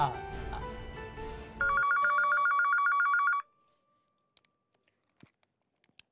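A telephone rings during a call home, a loud electronic ring of rapid repeated bursts lasting a couple of seconds after a voice, then near silence broken by a few faint clicks.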